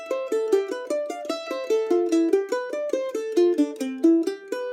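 Mandolin picks a smooth descending diatonic seventh arpeggio pattern, a steady run of bright, close plucked notes stepping downward in even rhythm, with no voices.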